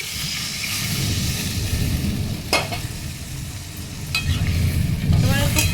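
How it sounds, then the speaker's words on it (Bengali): Hot water poured into a pan of sizzling, sautéed potatoes while cooking a vegetarian banana-blossom kofta curry; a steady fry and hiss carries throughout, with a few sharp louder bursts as the liquid hits, no voices. "আমি এবার একটু গরম জল দিয়ে দিচ্ছি।"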